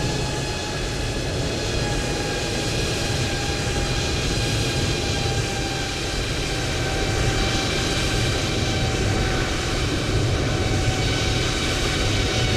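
A DHL Airbus A330neo airliner lands at Toulouse in Microsoft Flight Simulator 2020, giving a loud, steady engine and rolling roar with sustained whining tones that runs the full length with no letup.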